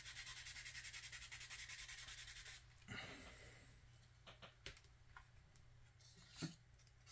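Sandpaper wet-sands the painted body of an Atlantis 1957 Cadillac Eldorado Brougham model kit in quick, rhythmic rubbing strokes. The strokes stop after a couple of seconds, leaving faint handling taps and scrapes.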